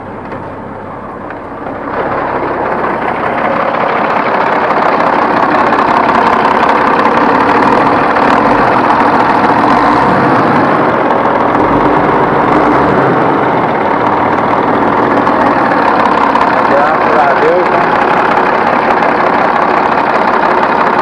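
A repaired car engine idles on a 1935 project car, a loud steady rumbling drone that starts after a quieter moment and holds evenly for about twenty seconds without speech.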